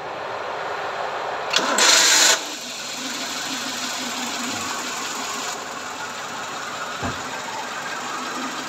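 A car engine is started, with a brief whirring crank and then a catch that settles into a steady, fairly loud idle with a faint ticking running through it.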